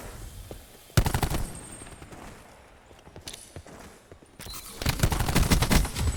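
Rapid automatic gunfire in Call of Duty during a professional esports championship match, dense bursts of shots loud at the start and again near the end, with scattered shots and game noise between.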